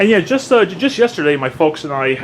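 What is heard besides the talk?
None of the usual background noises is heard.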